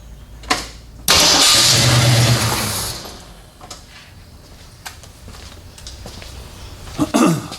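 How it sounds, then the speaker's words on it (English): A 1979 AMC AMX engine cranks briefly, then roars to life loudly before settling to a lower idle, with a few clicks and a short noise near the end. "I'm going to crank it over just to see"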